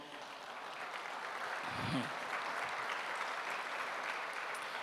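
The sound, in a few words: applause in a church service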